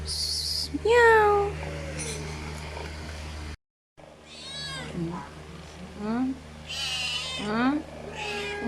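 A cat meows repeatedly up close, with several rising and falling calls spread through the clip, while people talk around it and a voice imitates the meow.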